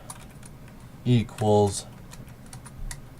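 Computer keyboard keys clatter as HTML code is typed, quiet scattered taps joined by two short loud bursts of keystrokes near the middle. A voice speaks a single word over the typing.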